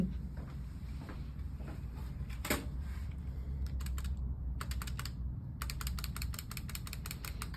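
Rapid keyboard typing in quick bursts of clicky keystrokes, quiet and close, over a low background hum.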